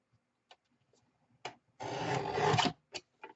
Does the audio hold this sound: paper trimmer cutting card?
yes